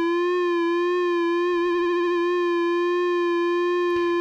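Buchla Easel modulation oscillator set to a triangle wave produces a steady, bright sustained tone that wavers briefly in a quick vibrato midway, then settles before a short burst of noise at the end, with no talk.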